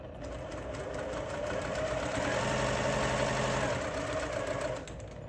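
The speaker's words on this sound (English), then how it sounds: "Okay, so I have I, Q, and F, and I'm just sewing them together." A sewing machine stitching pieces of a tractor quilt block together in one continuous run, a close, steady mechanical whir with a rapid needle rhythm, ramping up, holding, then stopping after about five seconds.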